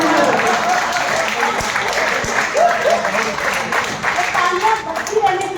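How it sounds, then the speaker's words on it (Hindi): A crowd applauds steadily at a literature festival in Ayodhya, dense clapping sustained throughout at full strength, with faint voices mixed underneath. "तालियां बजती रहनी चाहिए और 10-15 सेकंड तक।"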